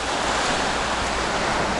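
Sea waves wash against a rocky shore in Alanya, Turkey, as a steady, loud broadband roar with wind buffeting the microphone; no voices.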